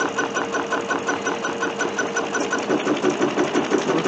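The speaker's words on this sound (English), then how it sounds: "it's going to do some quilting back and forth across here in the navy blue thread" Sewing machine quilting back and forth with navy blue thread, a fast even motor hum with a rapid rhythmic needle chatter running continuously and close, with no talk.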